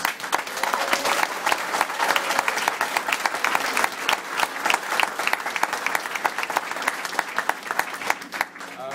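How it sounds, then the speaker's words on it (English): A roomful of people applauds Vinny at a public meeting, a dense, steady patter of many hands clapping close and fairly loud for about nine seconds, with no talk over it. "I think Vinny deserves a great round of applause"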